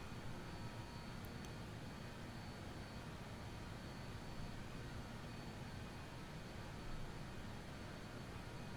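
A BAe 146 jet cruises in Microsoft Flight Simulator 2024, producing a faint, unbroken broadband roar that stays level throughout with no other sounds.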